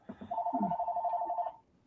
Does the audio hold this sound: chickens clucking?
no